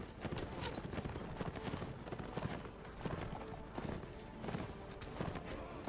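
Horses gallop in the video game The Last Days of the Third Age, a rapid clip-clop of hooves running continuously with sharp impacts and battle noise mixed in.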